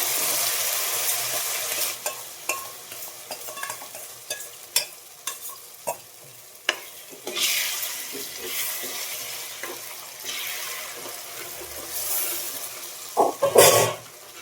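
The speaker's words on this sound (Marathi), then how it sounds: "जे रवा आणि दूध आपण एकत्र भिजवलं होतं ते आता यात आपल्याला टाकून घ्यायचंय." Soaked semolina and milk poured slowly into a hot pan for rava makhandi halwa, then stirred, giving a steady wet sizzle with scattered scraping clicks and a louder splashing burst near the end, no talking.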